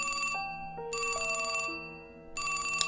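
Phone ringing in a point-and-click horror video game: a bright electronic ringtone with stepped melodic tones in repeating bursts, clear and prominent, with no voices over it.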